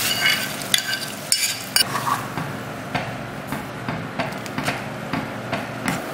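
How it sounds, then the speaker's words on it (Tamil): Tomatoes cook in a pan for a crab curry and are lightly mashed, giving a steady soft sizzle with repeated scraping and stirring knocks from a utensil, close and fairly loud, with no one talking. "தக்காளியும் நல்லா வெந்துருச்சு, லைட்டாக மசிச்சு விட்டுட்டு நம்ம வேக வச்சு வச்சுருக்க பருப்பை சேர்த்துடலாம்."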